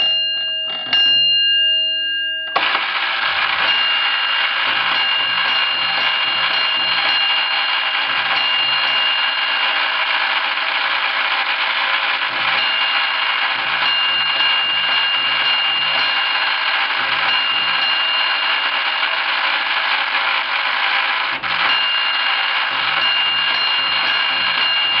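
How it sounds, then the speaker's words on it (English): A Gamewell fire alarm box, door number 152, drives a tap gong: a brief opening clatter, then a long sustained bright metallic ringing with pulsing strokes, loud and close. "This is a Gamewell fire alarm box. The door number is 152. So we should hear those gong."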